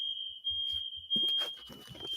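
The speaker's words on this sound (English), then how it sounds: "Fire alarm went off." A smoke detector sounds a steady high-pitched continuous tone, with a few soft thumps early on and then a voice talking over the alarm.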